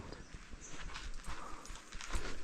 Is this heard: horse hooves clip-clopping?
yes